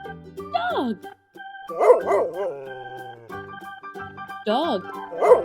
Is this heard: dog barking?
yes